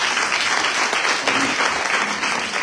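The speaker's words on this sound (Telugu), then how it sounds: "వాక్యం అంటే నాకు చాలా ఇష్టం అనేవాడు చప్పట్లు కొట్టండి." An audience claps together for a few seconds, a dense, steady burst of applause filling the space without speech.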